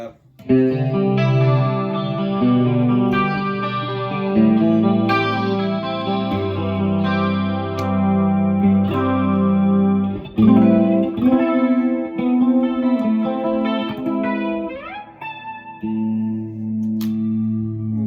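A Smith Starbird electric guitar plays chords and melodic lines with a mellow, rounded tone and a light chorus shimmer, sounding close to an acoustic guitar.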